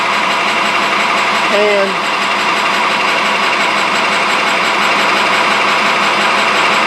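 A metal lathe facing off a part, kept flooded with cutting oil, runs with a steady, close mechanical drone throughout. Someone speaks over it.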